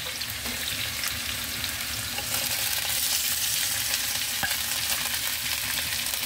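Pork sizzling in a pan with onion and garlic for igado, a steady loud frying hiss running throughout with a few faint clicks of stirring.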